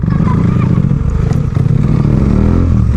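A motorcycle engine runs steadily and loudly close by, a dense low rumble with rattling clatter throughout.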